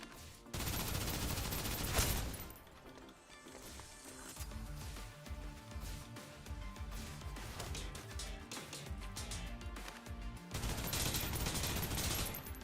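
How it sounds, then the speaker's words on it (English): Dense bursts of rapid gunfire from the shooter game Snowbreak: Containment Zone, loud and close, strongest at the start and end with a busier layered stretch of shots and effects in between, no talk. "Yo, I'm shooting the wrong thing."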